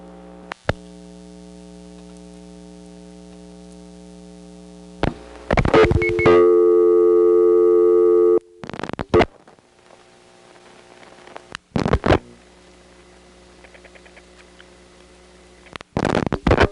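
Steady telephone dial tone on a call diverter line from a 1977 Step-by-step and ESS telephone exchange setup, a continuous hum broken by clicks and brief bursts of switching noise.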